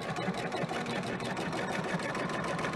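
An embroidery sewing machine stitches fabric in a continuous, fast mechanical whir with dense rapid needle chatter, close and steady throughout, with no voices.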